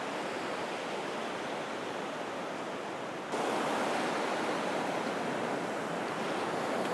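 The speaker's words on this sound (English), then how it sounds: "We'll wait for the next wave to come up" Ocean waves wash up a beach during a beach worming session, a steady broad roar of surf that swells louder midway as a bigger wave rushes in, with no voices.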